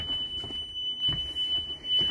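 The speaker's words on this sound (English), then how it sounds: "the floor, the rear, and the two windows have an alarm that come up to the front of the bus so the driver can hear it" A 2020 electric school bus emergency exit alarm sounds as a steady, piercing high-pitched tone, continuous and loud, with faint low rumbling underneath.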